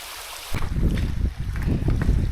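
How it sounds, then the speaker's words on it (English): Water running down a section of hiking trail on the Kumano Kodo's Nakahechi Route in Japan, a steady broadband rush with gurgles that starts abruptly about half a second in and continues close to the microphone, with some wind noise. "This section of the trail with water flowing down the trail"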